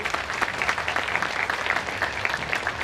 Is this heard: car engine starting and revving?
no